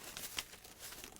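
Ziploc plastic bags being handled, giving a soft, close crinkling and rustling with one brief sharper crackle partway through, faint and quiet with no voices.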